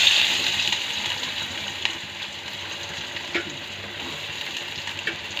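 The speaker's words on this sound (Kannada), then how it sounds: "ಎಣ್ಣೆ ಕಾದಿತ್ತ ಸಾಸಿವೆ ಜೀರಿಗೆ ಒಗ್ಗರಣೆ ಹಾಕಿ" Mustard seeds and cumin tempering in hot oil for a bitter gourd palya, giving a steady, close sizzling hiss with scattered small pops and crackles; no one speaks.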